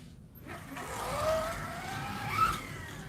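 A race car engine in a sim racing game rises in pitch as it accelerates, a moderately loud whine that swells twice and fades without any talk.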